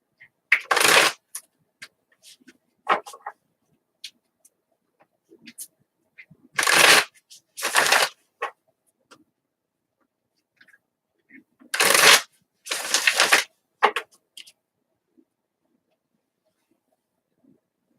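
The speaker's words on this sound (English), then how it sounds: "I'm going to pull a card very quickly." Tarot cards are shuffled in several quick riffling bursts separated by pauses, close and crisp, with soft murmured voices in between.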